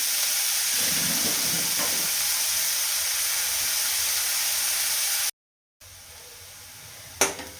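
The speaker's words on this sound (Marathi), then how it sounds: "आता कांदा आहे आपल्याला छान आधी भाजून घ्यायचा आहे" Chopped onion frying in a pan at home for a spicy masala cheese pasta gives a steady, close sizzling hiss that cuts out briefly near the end, then returns with a sharp clink.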